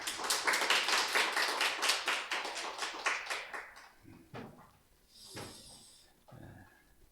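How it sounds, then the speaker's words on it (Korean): A church congregation claps in rhythmic unison at a Christmas service, loud for about four seconds, then the claps fade into scattered taps and brief voices. "우리 하나님께 영광의 박수 올려드리겠습니다."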